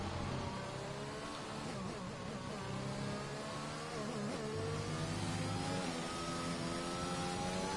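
A Formula racing car's engine revs loudly in F1 2021 at the British Grand Prix, a steady high-pitched whine with rising and falling harmonics across the whole stretch, up close and with no voices.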